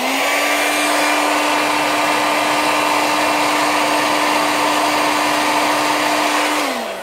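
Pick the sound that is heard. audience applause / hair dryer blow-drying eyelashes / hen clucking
hair dryer blow-drying eyelashes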